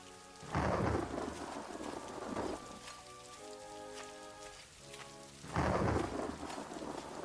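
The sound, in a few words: thunderstorm with rain in video game Daggerfall Unity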